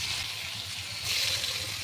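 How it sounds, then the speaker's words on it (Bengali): Paneer pieces rubbed with salt and turmeric frying in hot mustard oil, a steady close hiss of sizzling oil that swells briefly midway, with no talk over it. "একে একে পনিরের টুকরোগুলো নুন হলুদ মাখানো পনিরের টুকরোগুলো ভেজে নেব"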